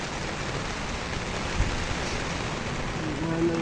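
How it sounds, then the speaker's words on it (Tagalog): Steady heavy rain pours down in the Philippines as a dense, even hiss, with no break and no other sounds standing out. "lumakas na naman yung ulan"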